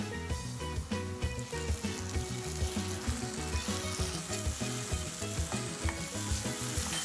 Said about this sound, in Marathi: तर आता आपण हा टोमॅटो बारीक चिरलेला घालणार आहे